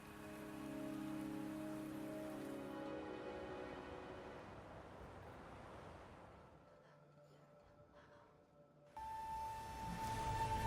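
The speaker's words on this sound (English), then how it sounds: "The rain is subsiding, and the sky will soon clear." Steady rain falls in the video game Wuthering Waves, a soft, dense hiss that thins and dips in the middle, then swells back louder near the end, with no talking over it.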